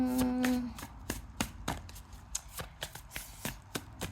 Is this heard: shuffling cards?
yes